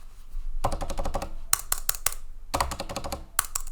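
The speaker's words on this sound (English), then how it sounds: "it's noisier, but it also gives you like a satisfying feeling when you're typing." Fingers type on a Tex Shinobi silent mechanical keyboard in two quick bursts of crisp, clustered keystrokes, close and clear, with a brief pause between them.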